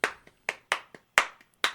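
A pair of hands claps out a short syncopated rhythm, with six crisp, close claps, some softer taps between them, and no other sound.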